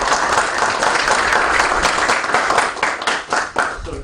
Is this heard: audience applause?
yes